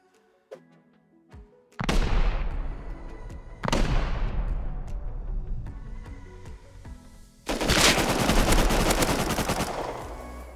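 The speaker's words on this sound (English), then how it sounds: "I just hope the turrets won't shoot me" Automated turrets in the survival game Rust fire in loud bursts of rapid gunfire, three separate volleys close by with brief gaps between them and no talking.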